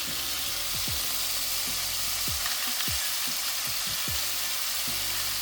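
Meat sizzling steadily in a hot pan while frying, with a continuous crackling hiss and occasional soft knocks of a utensil against the pan.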